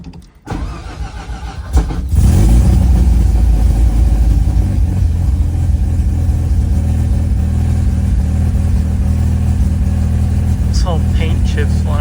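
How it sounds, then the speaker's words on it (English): A project car's engine cold-starts after a short crank and settles into a steady, loud idle that runs continuously close by, with no talking over it. "This thing's cold starts have been pretty good"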